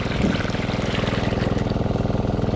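A Robin engine drives a water pump on a steady minor throttle, giving a loud, continuous close-up motor drone with a regular pulsing beat, water running faintly alongside; no talk.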